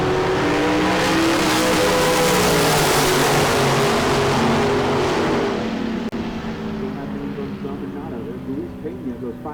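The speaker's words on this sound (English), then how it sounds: "Front engine dragster over on the left side." A front engine dragster roars down the drag strip at a bracket race in Las Vegas, a loud sustained engine blast that cuts off and fades after about six seconds, with an announcer talking over it.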